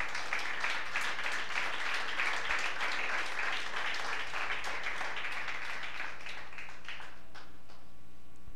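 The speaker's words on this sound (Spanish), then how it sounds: "Denle un fuerte aplauso al Señor." A church congregation applauds during a sermon on self-control, giving a sustained, fairly loud burst of dense clapping that gradually thins and fades toward the end.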